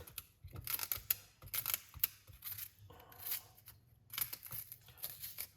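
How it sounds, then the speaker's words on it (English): Knife chopping through celery stalks on a board, quiet crisp cuts in short irregular bursts, close and alone with no talk. "Cut up a few stalks of celery."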